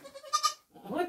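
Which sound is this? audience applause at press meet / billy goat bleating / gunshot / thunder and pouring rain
billy goat bleating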